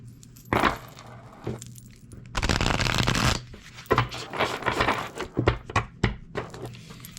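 Cards shuffled close up in bursts, including a long continuous riffle, with clacks and shuffles before and after, no speech.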